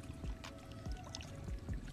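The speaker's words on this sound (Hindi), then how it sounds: "मस्त वेव मार रहा है, वेव मारते मारते आगे आ रहा है पानी, और पूरा छलक छलक का साउंड आ रहा है" Water waves slap and splash against a dyke at Jamadarpali, Sambalpur, in a few soft, irregular sloshes at close range over quiet background wash.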